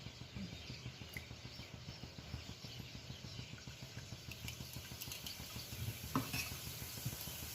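Boondi batter is tapped through a perforated ladle into hot oil, giving a faint, continuous frying hiss with a quick, regular patter of drops and light metal taps, close by and alone.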